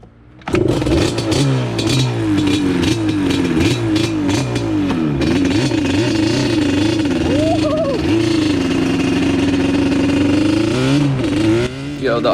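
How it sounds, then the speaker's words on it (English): Yamaha Banshee 350 two-stroke quad revving hard during a wheelie attempt, loud and close, with a sharp start, sustained buzzing revs rising and falling, and a brief dip near the end. "I'm trying to wheelie this freaking Banshee, and this thing is gnarly"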